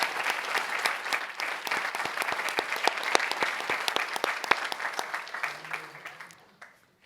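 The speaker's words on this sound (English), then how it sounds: "round of applause, Northside ISD Board of Trustees, Board of the Year" An audience at a school district board meeting applauds the Northside ISD Board of Trustees, with sharp individual claps over a steady wash of applause that tapers off and stops.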